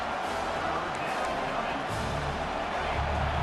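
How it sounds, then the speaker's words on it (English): A large stadium crowd at an Oklahoma vs Georgia game roars continuously, a dense sustained wall of noise that swells slightly toward the end, with faint talk underneath. "Listen to this crowd just shaking the girders of this place"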